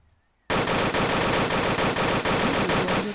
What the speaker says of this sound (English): I'm gonna shoot some rounds over there.